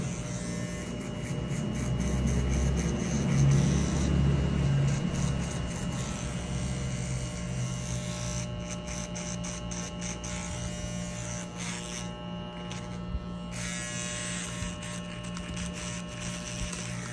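Electric hair clipper fitted with a half guard, cutting a mullet with a shaved fade on the sides, gives a steady close buzz that holds throughout with small shifts as it moves through the hair.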